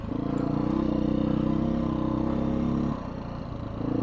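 A Beta 500 motorcycle engine runs steadily on a ride, a loud, continuous low drone that holds level, then dips lower for a moment before picking back up.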